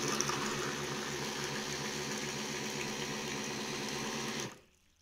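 An electric water can dispenser runs its pump, drawing water up from a can with a steady motorized hum and trickling flow, then cuts off abruptly near the end.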